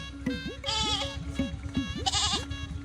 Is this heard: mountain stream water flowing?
no